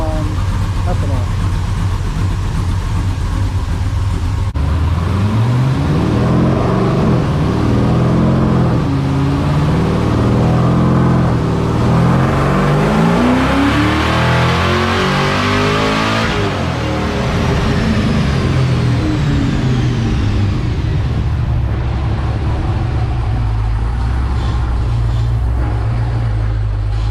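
An LSA V8 engine in a car making a dyno pull on ethanol fuel, a loud sustained roar that climbs steadily in pitch as it revs up, then drops back toward idle.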